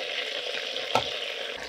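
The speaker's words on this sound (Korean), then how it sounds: "고기에 기름을 끼얹어주며 마치 고든 램기인처럼 합니다." Oil is basted over a roasting pork belly, giving a steady close sizzle with a soft splash partway through as the hot fat is spooned over the meat.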